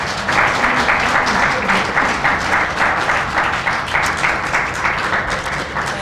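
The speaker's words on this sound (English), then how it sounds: "let's all give our guest speaker one final round of applause" Sustained audience applause for a guest speaker closing a talk on Czechoslovak exile to the U.S., steady dense clapping from a room of people that holds at an even level for the whole stretch.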